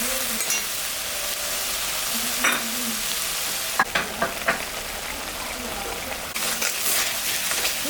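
Ginger, cumin, onion and garlic paste fries in oil for a pangas fish curry, a loud steady sizzle broken by stirring scrapes and clacks, with a burst of fresh hissing near the end.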